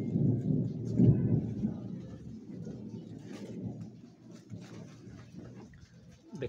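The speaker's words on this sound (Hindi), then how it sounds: "देखो वर्षा है देखो ये पानी पड़े" Steady rain pours outdoors with low rumbling thunder rolling beneath it, the wash of noise fairly loud and continuous throughout, with a person talking faintly now and then.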